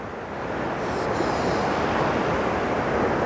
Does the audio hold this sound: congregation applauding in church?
no